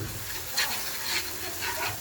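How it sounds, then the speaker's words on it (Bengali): Vegetables sautéing in a pan for a rich mixed-vegetable dish: a steady, close sizzle with a few soft scrapes and stirs rising over it. "একটু কষায় নেবেন"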